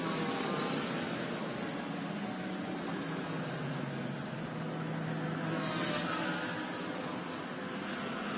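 Nissan and Porsche race cars roar past on a circuit during a race, a steady engine drone from a distance with a brief swell near the end, and no voices.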